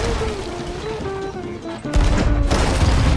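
Ship cannons firing in the pirate video game Sea of Thieves: a sudden loud boom breaks in partway through, followed by a sustained rumbling barrage over steady tonal game music.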